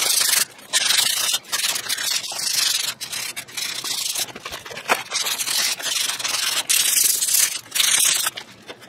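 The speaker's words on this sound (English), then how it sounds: "Now anywhere you've got some heavier rust, hit it with the sandpaper." Sandpaper rubbing a rusted galvanized metal chimney, a continuous harsh scraping in uneven back-and-forth strokes, close and loud.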